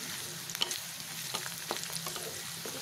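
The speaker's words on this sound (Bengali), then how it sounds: "আমি এটাকে খুব ভালো করে ভেজে নিব" Ingredients for a Bangladeshi papaya and bean mash fry in a pan with a steady, close sizzle, broken by a few soft scrapes and clicks of stirring, with no voices.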